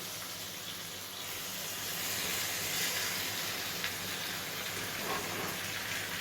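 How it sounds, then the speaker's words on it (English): Food frying in a pan on a stove, a steady broad sizzling hiss that swells slightly and holds, faint and without talk. "you want to stick the bottom side down and watch it fry"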